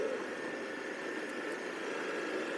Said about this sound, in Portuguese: Eu só achei que o som do motor não ficou a mesma coisa. Eu estou no modo Dynamic aqui